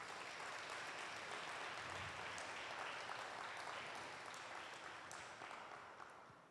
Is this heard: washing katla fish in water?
no